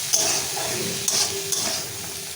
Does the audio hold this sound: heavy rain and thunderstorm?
no